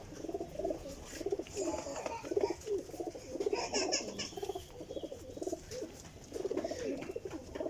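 Golden flying pigeons of an old bloodline coo in a series of soft, rhythmic bursts, fairly quiet and near, repeating across the whole stretch.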